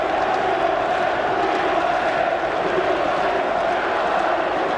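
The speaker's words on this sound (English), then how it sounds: "And we want 6, chant the crowd at the Dell" Dense football crowd at the Dell, Southampton, during a Southampton versus Manchester United match, a steady roaring wash of voices with a chanting quality, continuous and loud throughout.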